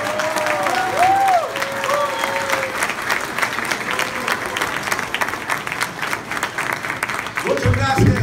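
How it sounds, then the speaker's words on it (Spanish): A standing audience in Pachuca breaks into loud applause and cheering, dense clapping that holds throughout while a voice speaks over it and tonal sounds drift in, with a louder burst near the end. "por qué no damos un gran aplauso al señor Raskin."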